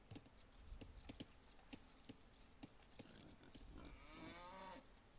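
A cow moos in a video game match, its drawn-out low call rising near the end over scattered clicking and tapping game sounds.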